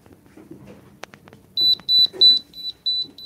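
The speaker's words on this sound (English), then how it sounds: "I think that was my phone setting it up." A phone being set up during a paranormal investigation in a haunted house gives a run of sharp, high electronic beeps in quick, slightly uneven bursts, loud and close, after some quiet shuffling and a single click.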